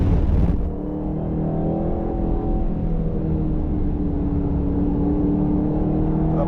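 A 2025 Aston Martin Vantage pulls hard around a race track, its engine holding a loud, steady, near drone with a rising tonal whine after a brief harsher burst at the start.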